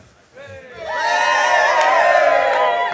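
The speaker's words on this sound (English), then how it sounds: "you're going to have to cheer loud." Loud crowd cheering and whooping for Paul Cooper from an audience of about a hundred at a skydiving expo, swelling from a quiet start into a sustained roar of shouts and cheers.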